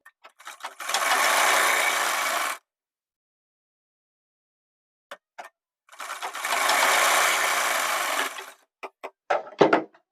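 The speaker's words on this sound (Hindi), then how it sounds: "यहाँ से रखकर हम आधा इंच का मार्जिन लेकर इसमें सिलाई लगा लेते हैं" Sewing machine stitching a kurti seam with a half-inch margin, running in two steady bursts of about two and four seconds separated by silence, with a few light clicks and handling taps around them.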